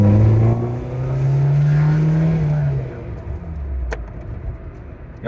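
A Trabant 1.3 Kombi fitted with a Wartburg engine revs up with a steady, rising drone, then settles and trails off into a rougher idle, heard up close with no talking.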